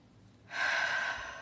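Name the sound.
deep breath during guided breathing exercise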